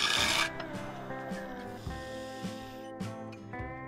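A lathe tool cuts a claret ash bowl with wild grain and a knot, mounted on a tiny tenon, giving a close, ringing scraping whine with rhythmic thumps about every half second as the uneven wood strikes the tool.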